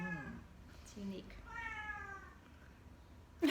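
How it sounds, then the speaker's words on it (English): A house cat meows several times close by, clear drawn-out meows with short pauses between them, followed by a brief louder sound at the end. "We have another guest, which is Johanna's cat, and I think she has something to say"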